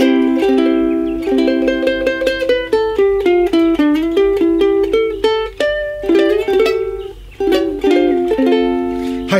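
Ukulele strung with D'Addario Pro-Arté EJ65 clear nylon strings strums chords, full and round with a mellow attack, played alone in a steady rhythm up close.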